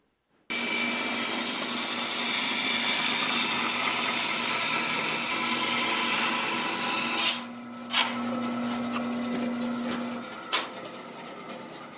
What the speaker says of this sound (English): freehand it on the bandsaw